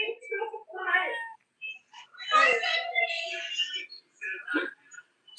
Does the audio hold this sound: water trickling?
no